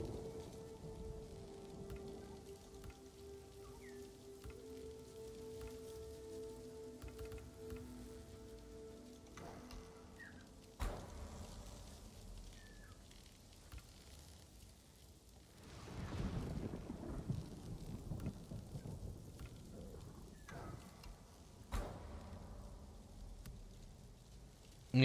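Steady rain patters on surfaces in Ghost of Tsushima while deep rolls of thunder swell and fade, with a faint musical tone underneath and no voices.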